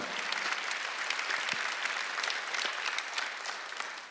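A church congregation applauds during a Sunday worship service, dense continuous clapping that fills the space evenly at moderate level for several seconds, with no talk over it.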